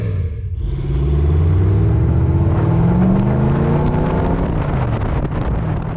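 A GT40 replica fitted with an aluminium engine runs close by with a deep, loud rumble. The engine note swells and shifts in pitch as it revs, and wind buffets the microphone throughout.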